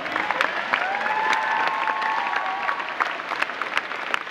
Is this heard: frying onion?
no